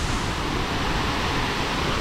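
A steady, broadband roar of water falling at Tad Khu waterfall in Pakxong, Champasak, Laos, dense and unbroken, heard close with no voices.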